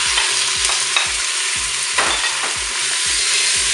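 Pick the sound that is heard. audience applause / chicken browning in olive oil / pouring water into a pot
chicken browning in olive oil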